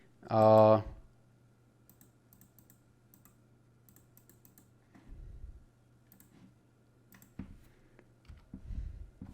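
Sparse computer mouse and keyboard clicks at a workstation running Adobe Animate CC 2022, faint, with a few scattered taps after a loud burst of speech at the start and short bursts of talk between them.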